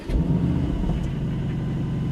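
An Aston Martin Vantage sports car engine runs with a deep, steady low rumble, close and fairly loud, a slight swell near the start, no voices over it.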